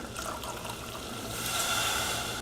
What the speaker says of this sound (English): to this we're gonna add a half cup of apple juice here.